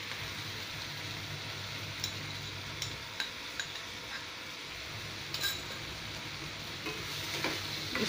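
Mushrooms sizzle in a pan with a spice paste added, a soft continuous frying hiss with occasional light clinks and stirring scrapes, faint and close with no talk.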